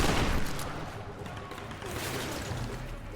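A pump-action shotgun fires in a video game: a loud blast up front, then further gunfire bursts and rumbling effects, with a voice talking over the action.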